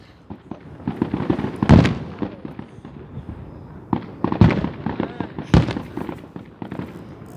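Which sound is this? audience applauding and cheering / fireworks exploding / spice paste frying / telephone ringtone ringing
fireworks exploding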